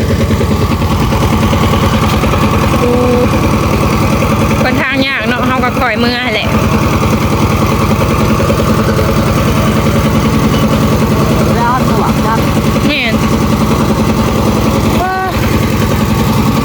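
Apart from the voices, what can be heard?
farm tractor engine idling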